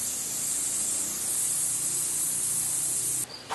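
Steady hissing spray of water from a Rain Bird 1804 sprinkler spray head nozzle, loud and continuous, cutting off abruptly near the end.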